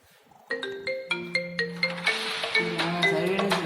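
An incoming phone call placed by a surveillance robot sets off a melodic electronic ringtone: a repeating pattern of bright, evenly spaced tones that starts abruptly, loud and close, and builds into denser chords toward the end.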